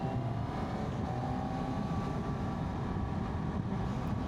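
A Honda CB1000GT 2026 motorcycle engine drones steadily as it is ridden, a dense constant roar with heavy wind and road noise throughout and no clear rise in revs, with no speech.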